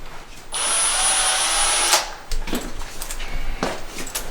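A power drill fitted with a nut driver whirs loudly for about a second and a half, then stops, followed by a few sharp clicks and knocks of tool handling.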